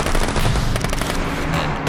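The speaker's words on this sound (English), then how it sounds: "there is this cacophonous explosion of gunfire" Sudden burst of sustained automatic gunfire, a dense, loud, cacophonous rattle of shots filling the space continuously with no voices over it.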